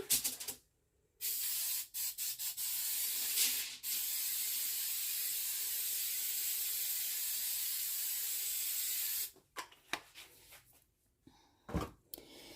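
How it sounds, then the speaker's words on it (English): A long continuous hiss of cooking spray onto a sheet tray lasting several seconds, close by, with short bursts and faint clicks before and after. "so let me go ahead and spray my tray"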